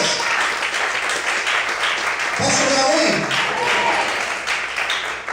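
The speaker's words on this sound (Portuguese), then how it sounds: "Mais forte as palmas, aleluia." A church congregation claps hands together during a worship service, producing a dense, loud wash of applause that runs the whole time while a preacher's voice speaks briefly over it.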